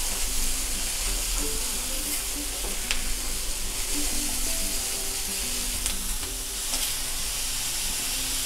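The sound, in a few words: vegetables sizzling while roasting in pan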